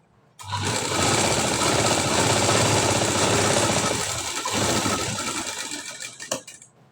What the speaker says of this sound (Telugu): ఇలా చేసిన తర్వాత ఇలా కుట్టేసుకుంటూ రావాలండి